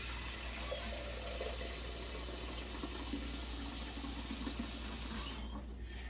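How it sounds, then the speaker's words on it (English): Tap water runs steadily into a soup pot holding chicken for stock, a quiet continuous fill that cuts off near the end. "So let's get a little more water"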